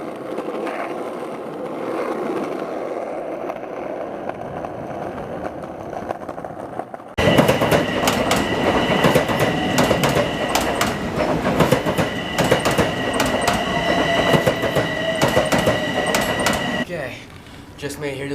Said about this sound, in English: Just made it here to the train station.